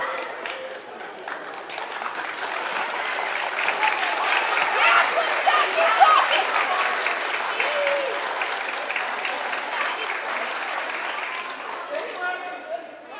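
A crowd cheers and applauds at a girls basketball game between Plymouth South and Whitman Hanson, a sustained roar of clapping and voices that swells in the middle and eases off toward the end.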